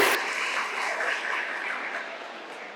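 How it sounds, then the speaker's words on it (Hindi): Seminar audience clapping after a request to applaud a participant, a steady wash of many hands close by that holds for the whole stretch and fades slightly toward the end. "पल्लवी जी के लिए ताली बजाइए प्लीज"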